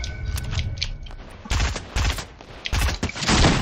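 Submachine gun fire in a video game: rapid, loud bursts of automatic shots stacking into an almost continuous rattle, heard close with no talking.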